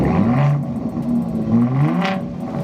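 A truck engine with dual exhaust revs up close by, two deep surging pulls with a throaty rumble between them.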